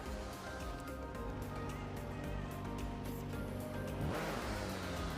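A car engine in the video game Car Parking Multiplayer roars steadily with a rising rev toward the end, thick low rumble over background music-like tones, close and loud.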